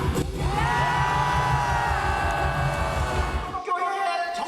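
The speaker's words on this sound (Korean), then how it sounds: "군중을 향해 함성을 유도하는가 하면" Large outdoor crowd of about 8,000 at a political rally in Cheonggye Plaza, central Seoul, cheering and shouting together in a loud sustained roar that cuts off sharply near the end, leaving brief quieter noise.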